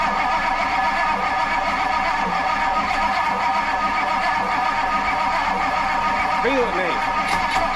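An Edsel E400 engine runs at quarter throttle with a steady, rough drone throughout, close and fairly loud, while people talk over it.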